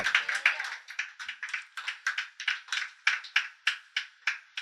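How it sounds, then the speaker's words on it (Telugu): A church congregation claps in praise of God, about twenty crisp, rhythmic claps in a steady beat that stays fairly even and close throughout. "చప్పట్లు కొట్టి దేవుని మహిమపరచండి గట్టిగా."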